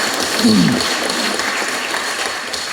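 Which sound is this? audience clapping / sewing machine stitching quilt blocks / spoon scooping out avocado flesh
audience clapping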